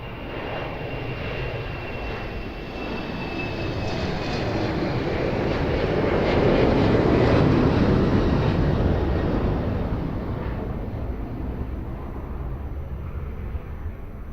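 Airliner landing on runway 02 at Lisbon Airport, a loud sustained jet engine roar that swells to a peak midway and then slowly fades, heard at a distance with no voices.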